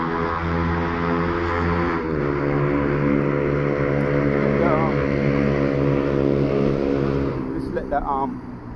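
A loud motorbike engine drones and revs steadily throughout, with a voice speaking over it, the roar fading near the end.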